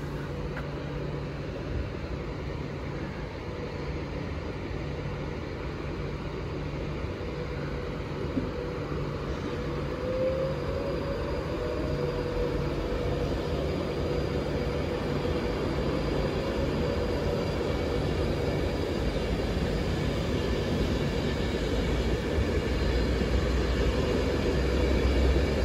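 A train pulls out of Stafford station, producing a steady, low rumbling hum with faint mechanical whine that stays fairly constant throughout.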